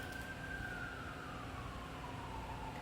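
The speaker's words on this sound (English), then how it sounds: "nothing like a siren in the background to really set the tone for this fucking video" A distant siren wails faintly in the background with a slowly falling tone over a steady low hum.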